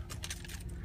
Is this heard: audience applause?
no